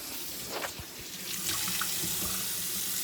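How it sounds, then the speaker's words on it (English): A kitchen sink tap runs while a knife is washed. The water hisses and splashes steadily at close range, swelling slightly partway through, with no voices. "So take your knife, wash it in the sink."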